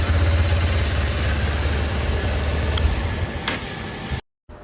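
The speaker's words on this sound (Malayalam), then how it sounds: "എഞ്ചിൻ സൈഡിൽ നിന്നാണ് കൂടുതൽ സൗണ്ട് വരുന്നത്" A 2024 Honda CB200X motorcycle idles close by, heard from the engine side as a steady, even low hum with faint mechanical ticking that cuts off abruptly at the end.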